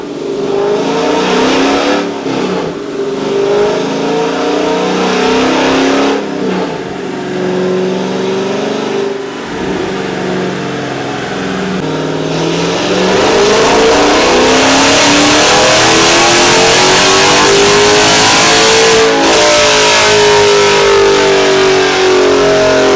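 Dodge Challenger Scat Pack engine revving hard on a dyno, a loud sustained roar that climbs steadily in pitch through the rev range, with brief dips between pulls and rising to a full-throttle howl near the end.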